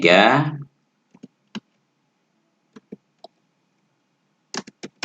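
Keys tapped on a computer keyboard while entering a network configuration command on a Debian 12 machine, heard as a few sparse, light clicks in short groups after a brief burst of voice.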